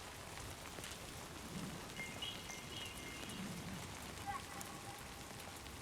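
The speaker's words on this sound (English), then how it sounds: "Hopefully this is regular ass rain" Steady rain falls in the video game Death Stranding 2, a constant dense hiss of drops on surfaces at moderate level, with faint scattered tones over it.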